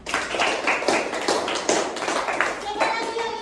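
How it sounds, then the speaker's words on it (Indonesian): A primary-school class claps together in short rhythmic bursts, patterned hand claps repeating at a quick pace, with children's voices mixed in. "Beri tepuk tangan."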